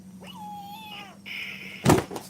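A toy cat gives a drawn-out electronic meow, then a second shorter meow, followed by a brief clunk.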